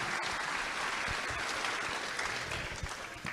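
Audience applauding a priest at a church teaching session, steady sustained clapping from a crowd filling the whole stretch without speech.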